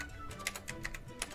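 Fast, light clicks of a computer keyboard, a quick cluster of keystrokes with no voices.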